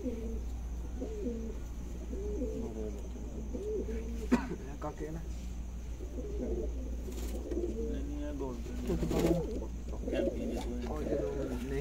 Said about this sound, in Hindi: ये इनका पुराना कबूतर है, बड़ा अच्छा कबूतर है